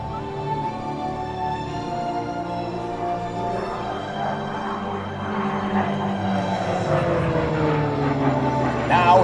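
A Short Tucano turboprop performs aerobatics at an air show, its engine a steady drone with a pitch that sweeps downward and swells louder toward the end of the maneuver.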